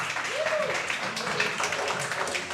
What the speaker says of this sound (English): Amazing applause.